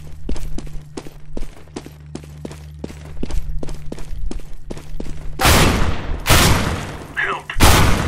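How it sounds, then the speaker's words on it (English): Footsteps tap rapidly in Counter-Strike: Global Offensive before a thrown flashbang grenade bursts with loud, harsh blasts, followed by another sharp explosion. "Throwing flashbang."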